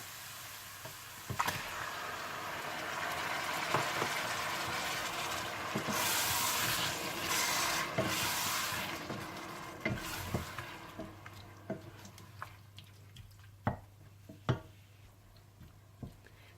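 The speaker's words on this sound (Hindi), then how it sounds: "अदरक लहसुन भूनने के बाद आप इसमें टमाटर डालकर मिक्स कर लें।" Tomatoes being stirred into fried ginger and garlic in a pan for aloo palak, a soft steady sizzle close by, with scattered ticks of a spoon against the pan.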